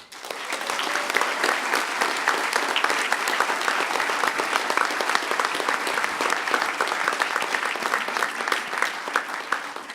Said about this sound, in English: So I'd like to get a round of applause for them.